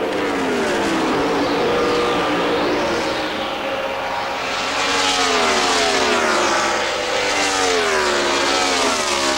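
Indy Racing League cars at the 1998 Dura Lube 200, engines screaming loudly and continuously as several pass in close succession, their pitch rising and falling with each car sweeping by.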